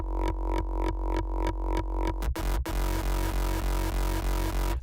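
A pounding synthesized electronic kick drum with no distortion repeats in a steady, fast rhythm, deep and clean with booming low end, briefly interrupted before the pattern continues.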